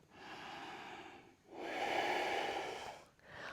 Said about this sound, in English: Take 2 more breaths here.